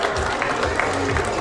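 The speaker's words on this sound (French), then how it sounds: "on les applaudit bien fort" A crowd at a town carnival parade in Saubusse applauds loudly together, a dense, continuous patter of clapping mixed with crowd noise throughout.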